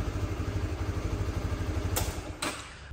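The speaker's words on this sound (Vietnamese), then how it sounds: "Bây giờ mình sẽ nổ máy cho các bạn xem." A Honda Winner motorcycle engine, recently repaired after water got into the combustion chamber, idles steadily with a quick, even pulsing putter and light mechanical clatter, close and moderately quiet, with two sharp higher bursts near the end.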